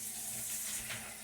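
Water pours steadily into hamburger meat in a skillet, a continuous hissing, splashing wash that stays even and fairly close for the whole short stretch.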